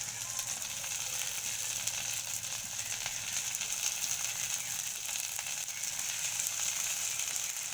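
Okra sizzling steadily in hot oil, a dense, continuous frying hiss with fine crackles that holds at an even level throughout, with no voices.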